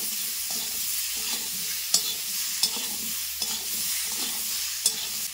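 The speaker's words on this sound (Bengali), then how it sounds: "হলুদ লবণ দিয়ে ভালো করে নাড়াচাড়া করে নেব" Mango pieces with salt and turmeric stirred in a pan, regular scraping strokes repeating roughly every half second with occasional sharp clinks over a faint hiss, close by and without voices.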